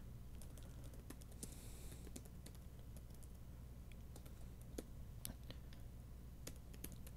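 Quiet typing on a computer keyboard, a steady run of soft key clicks with irregular rhythm and no voices, close by but low in level.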